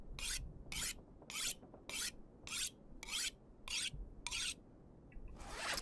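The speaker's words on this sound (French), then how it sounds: "Eh oui, on peut aiguiser à chaque fois, j'oublie." A saw is sharpened with a file in the survival game The Long Dark, making about nine evenly spaced rasping strokes, close and crisp against quiet background.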